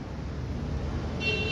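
A short horn beep from a Yamaha Ray ZR 125 scooter sounds near the end over a low, steady engine rumble outdoors.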